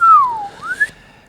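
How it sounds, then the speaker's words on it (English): A person whistles a short, clear, loud phrase close by, gliding down and then back up in pitch over about one second. "We're whistling tunes on the way back."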